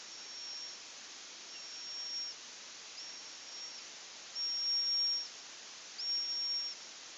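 A recording of horseshoe bat calls, heard as a steady thin high whistle with a hissy wash under it, continuous throughout and swelling louder in a couple of longer stretches.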